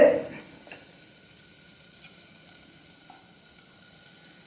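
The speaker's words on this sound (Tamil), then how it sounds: "வெங்காயம், பூண்டு லைட்டாக வதங்கினா போதும்" Onion and garlic sauté lightly in butter for a spinach soup, giving a soft, even sizzle that follows a brief louder stir at the start and stays faint and steady throughout.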